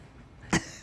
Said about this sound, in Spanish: Disculpen que me dio tos.